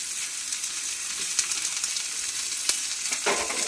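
Chopped onion with a little salt sizzles in hot oil for samosa filling, a loud, close, continuous hiss with occasional crackles and a brief stir near the end, with no talk.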